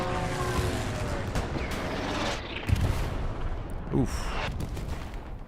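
A Stuka dive bomber attack in the World War II game Hell Let Loose, with dense heavy explosions and rumbling booms layered with gunfire, a loud continuous barrage with sharper blasts midway; a voice briefly reacts.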